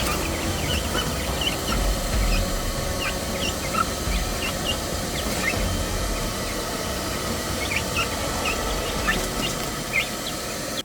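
Chickens weathering a hurricane give faint scattered clucks and calls over a steady roar of wind and rain, with no talk.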